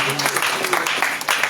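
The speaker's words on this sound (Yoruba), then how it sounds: "Ẹ bá ń pàtẹ́wọ́ fún Jésù." Church congregation clapping for Jesus at a birthday prayer service in the Ogbomoso palace, a dense, steady patter of many hands close by with voices mixed in.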